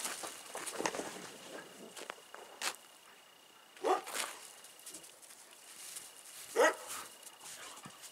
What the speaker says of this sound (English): taking the dogs out and actually getting them some time to run around outside